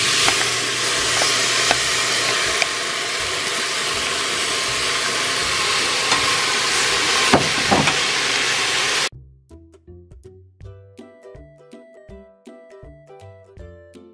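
Garden tomatoes sautéing in a pan with pepper make a loud, steady sizzle with occasional stirring clinks for about nine seconds, then music takes over.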